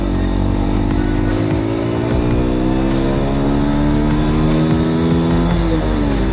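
A Yamaha Virago 125 motorcycle engine pulls steadily on the road, its rising harmonic drone climbing as the bike accelerates through the gears, loud and close with continuous rumble and no talking.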